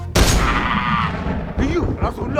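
Gunshot sound effect in a Malayalam comedy web series: one sharp, loud blast that decays into a rumbling tail, followed by an excited voice shouting over the fading echo.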